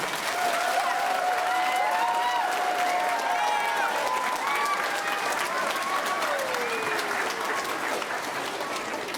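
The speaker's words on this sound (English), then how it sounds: "give all of the parents and other extended families giant rounds of applause right now" Sustained, even applause fills the room from a large audience at an elementary and middle school winter choir concert. Whistles and scattered cheers rise above the steady clapping throughout.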